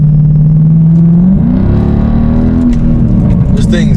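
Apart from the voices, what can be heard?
Mercedes W211 E63 M156 V8 engine accelerating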